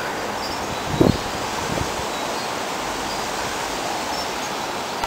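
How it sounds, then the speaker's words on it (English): Strong wind gusts roar steadily outdoors with broadband rushing and rustling leaves, a louder buffeting gust near the start, continuous and fairly close. "It is very windy."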